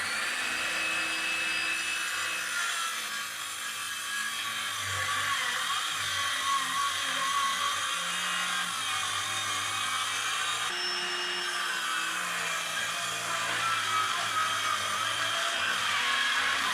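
An old Ryobi power tool cuts through camper van flooring near a wheel well, giving a loud, unbroken whirring roar that holds steady for the whole stretch with slight shifts in pitch. No voices.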